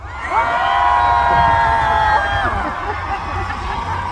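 A fan crowd at an outdoor daily concert in Boseong, South Korea, cheers and shouts loudly, rising fast, holding a strong high-pitched roar, then fading to a murmur.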